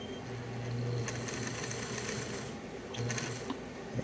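A Singer 185J sewing machine motor, being restored after tightening, runs with a close mechanical whir that rises in two short bursts, with a brief lull between them.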